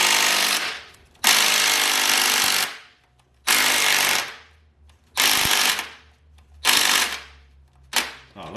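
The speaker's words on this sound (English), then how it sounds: "I had ended up flipping my 3/8 impact upside down" A 3/8 impact wrench hammers at a turbo bolt on a 2015-2017 Hyundai Sonata 2.0T, close and loud, in five rattling bursts of one to two seconds with short pauses between them.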